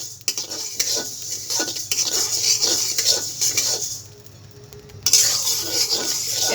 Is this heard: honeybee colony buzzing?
no